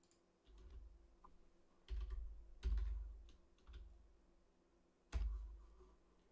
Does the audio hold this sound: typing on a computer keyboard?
yes